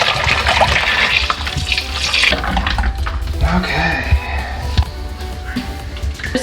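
Filtered water pours steadily into a beer brewing fermenter holding fermented wort, a loud continuous splashing rush with no break for several seconds.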